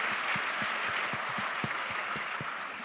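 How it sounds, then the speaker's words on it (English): Applause from an evening audience, a steady wash of clapping heard at a distance and fairly quietly, with soft low thumps recurring through it. "give Hannah a round of applause"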